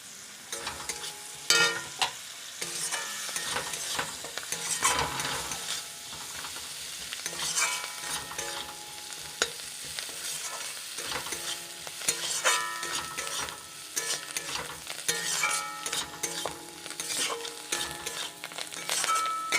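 Spiced potato filling for singara frying in a pan with chilli powder, roasted spice mix, coriander leaves and peanuts, heard as steady sizzling with repeated scraping and stirring clatters throughout, no talking.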